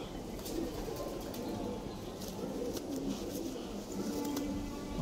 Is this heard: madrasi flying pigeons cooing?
yes